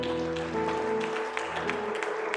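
A congregation applauds at the close of a prayer in an evangelical church service, scattered claps rising over sustained music tones.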